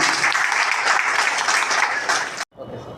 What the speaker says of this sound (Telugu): మీ చప్పట్ల ద్వారా తెలియజేస్తున్నారు